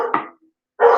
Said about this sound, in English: excuse my dog, my husband must be home